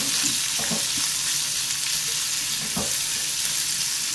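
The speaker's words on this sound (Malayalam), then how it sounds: "ഇനി നമുക്ക് ചതച്ച് വെച്ചിരിക്കുന്ന ഉള്ളി, വെളുത്തുള്ളി, മുളക് ചേർത്ത് കൊടുക്കാം. ഇതൊന്ന് വഴറ്റിയെടുക്കണം." Crushed shallots, garlic and chili sauté in a pan for a Kerala brinjal mezhukkupuratti, producing a close, constant sizzle with a few soft stirring scrapes and no talking.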